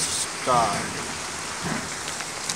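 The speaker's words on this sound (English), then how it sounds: "This is 4 days of rain too." Heavy rain on its fourth nonstop day hisses steadily and continuously, and someone speaks briefly over the top of it.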